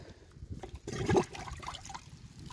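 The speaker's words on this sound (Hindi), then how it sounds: "अब इसमें गिन के मैं 10 डिब्बे पानी के डालूँगा" Water poured from a small container into a bucket to mix herbicide for nut grass in a sugarcane field, a brief splashing pour that swells and then trickles on, with no talk.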